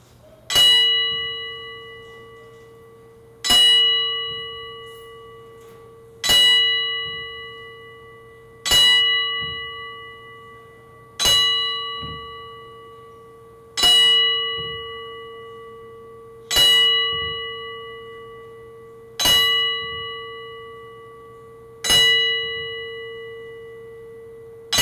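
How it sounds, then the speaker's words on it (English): A bell struck ten times at a wrestling event as a ten-bell salute, each clear ringing strike spaced about two and a half seconds apart and left to decay, with a steady hum beneath and no talk. "What you're going to hear right now, ladies and gentlemen, is a 10-bell salute"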